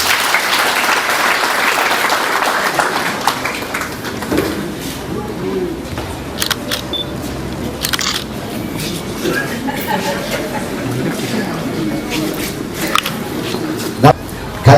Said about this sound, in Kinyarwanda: Tumukomere amashyi neza.